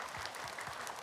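A group of women applaud in a room, a brief and faint patter of steady clapping with no voices.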